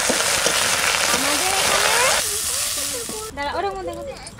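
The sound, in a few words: fenugreek greens sizzling as they fry in a pan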